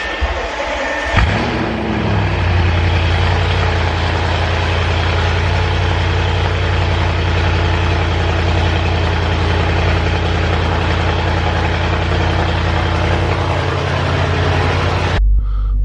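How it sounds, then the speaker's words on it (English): An Audi RS7 V8 cranks and catches on a cold start in chilly weather, flaring briefly before settling into a steady, deep, loud idle that rumbles on close by until a sudden cutoff at the end. "I'm gonna go ahead and crank this car, man, because it's cold out here"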